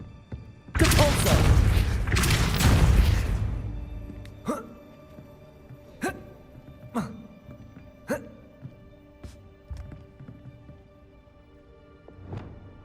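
The Depulso spell is cast in the video game Hogwarts Legacy: a loud whooshing burst of magic lasting a few seconds, then a series of sharp thuds and impacts spaced about a second apart, fading in strength.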